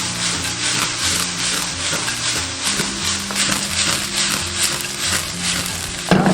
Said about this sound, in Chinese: 开大火爆炒30秒。